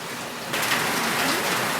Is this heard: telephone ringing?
no